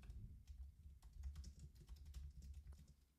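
Quick, uneven keystrokes on a computer keyboard, a steady patter of clicks over about three seconds, close and fairly quiet above a low background hum, with no one speaking.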